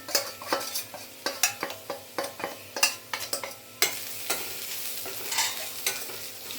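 Bitter gourd is stirred with turmeric, salt and homemade Malvani masala in a pan, a rhythmic run of sharp spatula scrapes and knocks roughly twice a second over a light sizzle, close and clear.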